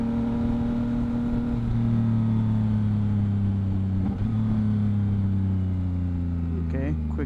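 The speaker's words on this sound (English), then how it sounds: "Exhaust is pretty loud." A Yamaha MT-09 motorcycle fitted with a Two Brothers exhaust is ridden at a steady pace, its loud droning engine note shifting slightly as it changes speed, with a rider's voice briefly over it.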